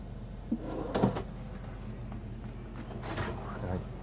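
A cabinet drawer in a Newmar New Aire motorhome kitchen slides and bumps, with a couple of knocks and a soft rolling rumble over low background hum.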